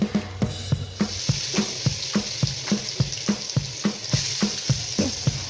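Eggs fry in hot oil with only salt, making a loud continuous sizzle broken by regular rhythmic scrapes and taps of a spatula, about two per second.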